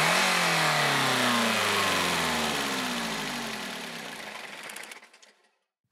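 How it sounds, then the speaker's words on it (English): A car engine revs up loudly, then winds down and sputters to a stop as the electronics are cut with throttle held open, leaving near silence at the end. "Rapidly increase the engine speed, turn off the engine electronics"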